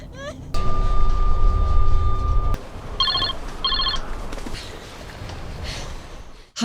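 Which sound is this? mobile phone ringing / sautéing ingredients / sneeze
mobile phone ringing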